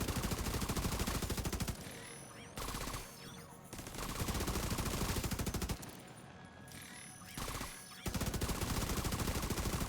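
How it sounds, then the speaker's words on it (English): Sustained automatic gunfire in the shooter The Division 2, rapid bursts rattling on and off in long runs broken by short pauses, loud and close with no talking. "Shooting me from across the map."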